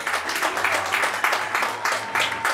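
Crowd applause at a Chilean criollo rodeo in Futrono, a steady wash of many hands clapping at moderate distance, with a low hum and faint voices beneath.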